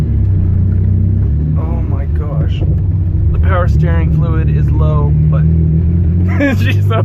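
BMW E34 engine running rough while driving, a loud, uneven low rumble throughout with people talking excitedly over it.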